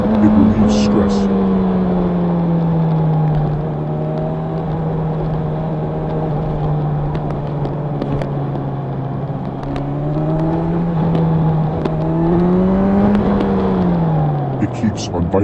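A Honda CB1000R Black Edition motorcycle on a road commute, its engine and exhaust a steady, close drone throughout, with the pitch dipping and rising gently as the throttle changes.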